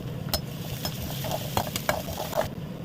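Green chili frying in hot oil in a home kitchen pan, a steady crackling sizzle with a few sharper pops and stirring clinks, close and moderately loud with no talking.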